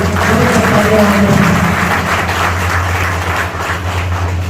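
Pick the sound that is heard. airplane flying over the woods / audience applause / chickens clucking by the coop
audience applause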